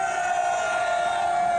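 A crowd at an outdoor political rally in Cheongju roars together in a sustained collective shout, steady and loud throughout.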